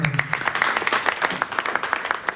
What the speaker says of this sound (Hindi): लेडीज एंड एक तालियां थोड़ी जोर से हो जाए